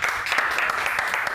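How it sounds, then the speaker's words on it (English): An audience claps briefly, a dense, even round of applause at close range lasting just over a second. "Clap it out."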